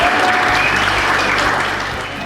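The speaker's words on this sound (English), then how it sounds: "Let's give a big round of applause, ladies and gentlemen, for the festival director and founder" Loud, dense applause from a festival crowd greets the festival director and founder, a steady roar of clapping that tapers slightly at the end.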